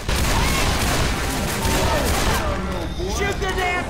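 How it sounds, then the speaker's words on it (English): Sustained gunfire at the Tank in the video game Left 4 Dead 2, a dense, continuous barrage of shots filling the whole moment, with players talking over it. "Shoot the damn tank!"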